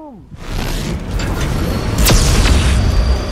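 A deep electrical discharge or explosion booms through Dead Space 3, a low rumbling blast swelling after a brief pause and holding with a sharp crackling burst midway, loud and close.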